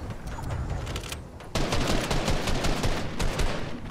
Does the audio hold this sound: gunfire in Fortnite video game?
yes